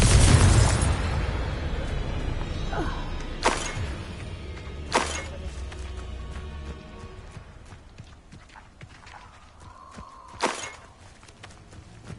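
Repeated Confringo fire-spell blasts in the video game Hogwarts Legacy: a loud booming burst at the start, then sharp explosive cracks spaced a few seconds apart over a rumbling low background.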